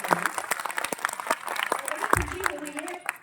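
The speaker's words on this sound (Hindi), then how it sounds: "जोरदार तालियां हम निशिता जी को कर रहे हैं।" Audience applause at an on-stage event, dense clapping throughout, mixed with someone speaking over it.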